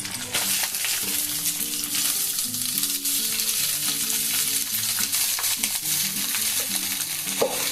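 Cooked rice stir-fried with cumin in ghee gives a steady, bright sizzle, while a spoon pushes and scrapes through the grains in a continuous rhythm.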